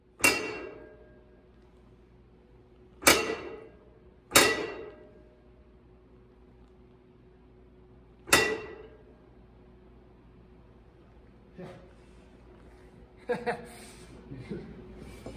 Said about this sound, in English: this is a 6-ton flywheel press, and that's why I'm so surprised how much force it's taking to move these U-joint caps